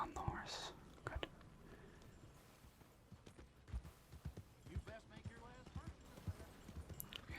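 Horse hooves clip-clopping in the Red Dead Redemption 2 video game, a soft, steady run of light thuds under quiet whispered talk.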